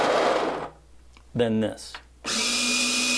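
Oxo conical burr coffee grinder running at close range, a loud steady whirring grind with a high whine, broken off by a short quiet gap with brief talk before grinding resumes.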